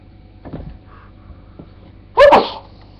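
A single sharp sneeze bursts out near the mic indoors in a bedroom with bunk beds, loud and brief after a few soft rustles and breaths.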